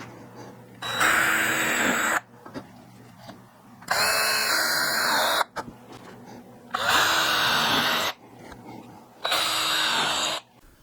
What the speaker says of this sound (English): I'm going to drill and countersink the 4 holes that are going to hold the bottom of the bank to the bank body